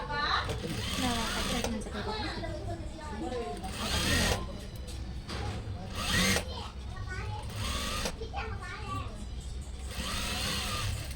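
A sewing machine stitching a sleeve onto a doctor's coat runs in long continuous whirring bursts with brief pauses, loud and close, while a person talks over it.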